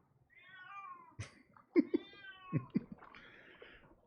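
A cat meows in the video game Alan Wake 2: several drawn-out, tonal meows in a row, close and clear against a quiet background, with a few soft thumps between them.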